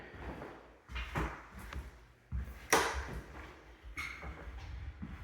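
Interior door opened by pulling a high-mounted doorknob with no latch catch, giving soft knocks and a sharp clack in a quiet hallway, a few separate close handling sounds with no talk.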